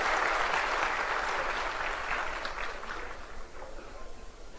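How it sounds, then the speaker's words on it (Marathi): A large crowd at a political rally in Nagpur claps loudly and continuously, the dense applause fading slightly toward the end, with faint voices underneath. "मी आपणा सगळ्यांना विनंती करेल की जोरदार टाळ्या वाजून आपल्या देवेंद्र करावं"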